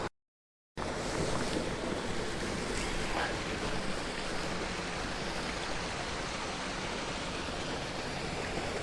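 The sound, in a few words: babbling brook, flowing water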